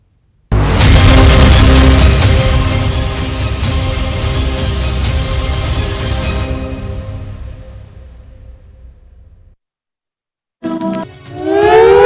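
A loud civil defense air raid siren wails during a nationwide mock drill, holding a long steady tone before winding down and fading to silence, then starting up again briefly.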